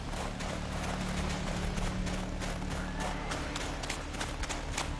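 Horse hooves clip-clop steadily in The Witcher 3, a rapid, even trotting rhythm close by over a dense, continuous game ambience with a low droning layer underneath.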